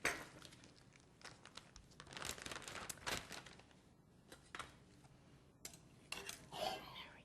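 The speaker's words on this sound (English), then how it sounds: "get my bag, because I like to marinate them in baggies" A plastic baggie is handled in a firehouse kitchen while flank steak is marinated: quiet close crinkling and rustling in irregular bursts, with some faint clinks around it.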